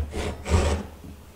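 A Japanese hand saw cuts a tenon in wood for a stool joint, making two close, rasping strokes. A fainter third pass follows.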